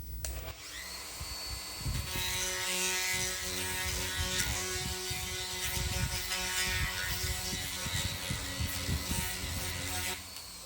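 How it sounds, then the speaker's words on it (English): Electric die grinder spinning up and running steadily on a shaft while cleaning it up in a workshop building a rotary welding positioner; a loud continuous high whine with buzzing mechanical rattle, starting after a brief pause and cutting off near the end. "we're just going to run it in our electric die grinder"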